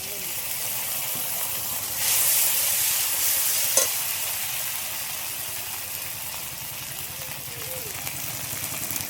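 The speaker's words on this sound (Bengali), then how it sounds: "এবার এই দিয়ে দেবো কাঁচা লঙ্কার তেল। তারপরে দিয়ে দেবো বাটা মশলাটা।" Ground spice paste hitting hot green chili oil in a pan, a steady sizzle that swells into a louder hiss partway through, with a sharp clink; a voice talks faintly over it.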